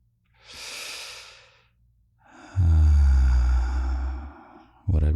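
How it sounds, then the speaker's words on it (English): Two deep breaths taken together, a long airy inhale followed by a louder, heavier exhale sigh, close and unhurried, with the start of another breath cutting in at the end. "How about you and I take a breath together?"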